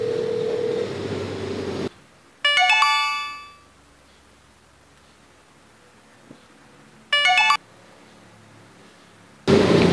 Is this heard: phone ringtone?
yes